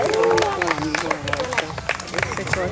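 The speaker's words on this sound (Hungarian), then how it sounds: "Nagy taps, nagy taps!" Crowd applause and cheering at an outdoor village festival after a military display, a busy wash of clapping with voices and a prominent announcer-like voice over it.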